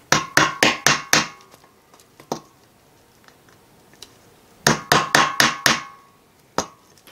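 Small-diameter holes being punched into the base of an aluminium drinks can: two close bursts of four or five sharp, loud taps each, with a few lone knocks between, and no talk.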